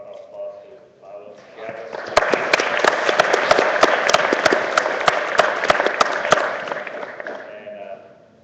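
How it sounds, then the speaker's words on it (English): Applause from a conference audience after a presentation on SmartPlant P&ID automation, rising after a brief stretch of speech into sustained clapping with some sharp individual claps standing out, then fading at the end. "I'd like to give a round of applause to Tiago."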